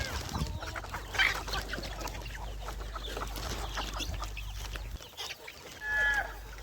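Free-range village chickens peck at market vegetables, with scattered clucks and short calls near at hand over a low background, and a louder squawk toward the end.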